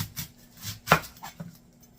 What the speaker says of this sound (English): So now I want to prep up a red onion.